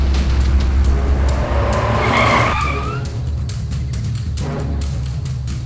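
A car is driven hard with its tires skidding, a loud squeal rising over a steady engine roar that eases off after a few seconds while the motor keeps running, no voices.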